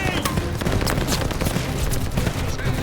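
Sustained, loud machine gun fire in Call of Duty: Vanguard as a mounted MG is suppressed in a combat mission, a dense, rapid barrage with battle noise and shouted voices mixed in.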